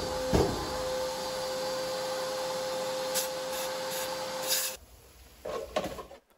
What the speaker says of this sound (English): It's time to clean the holes with compressed air.